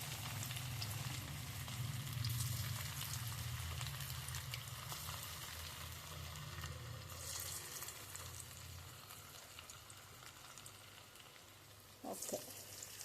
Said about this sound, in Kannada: ಎಣ್ಣೆಯಾಗ ಚಲೋತ್ನಾಗ ಬೆಂದ್ರೆ ಮಸ್ತ್ ಅಕ್ಕವ್ರಿ, ಕ್ರಿಸ್ಪಿ ಅಕ್ಕವು